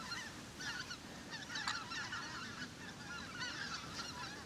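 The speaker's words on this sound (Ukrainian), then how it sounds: "дивіться, воно, гуси дикі летять над нами" Wild geese honk repeatedly in a loose flock passing overhead, calls rising and fading over a steady outdoor background hiss.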